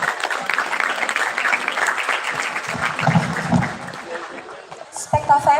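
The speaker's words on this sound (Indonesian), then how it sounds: "beri tepuk tangan yang meriah" A crowd applauds steadily for several seconds at a winners' announcement, then the clapping fades as a voice begins speaking.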